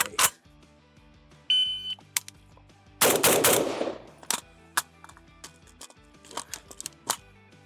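Modded AK rifle fired in a rapid burst, a loud close crack cluster around mid-clip, with scattered single sharp reports and beeps of a shot timer around it, no talking.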